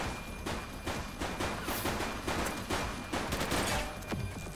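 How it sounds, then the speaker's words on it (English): Gunfire in the police video game The Precinct, rapid bursts of shots and crackling volleys one after another, loud and dense throughout with no talking. "He's shooting!"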